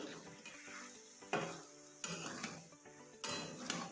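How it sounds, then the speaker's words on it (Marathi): Coriander being stirred into a vegetable mixture in a pan while making kadhi vada, with several distinct scraping strokes of the spoon over a steady soft sizzle, close and fairly clear with no talking. "त्याच्यामध्ये थोडीशी कोथिंबीर घालू कोथिंबीर पण मिक्स करून घेऊ"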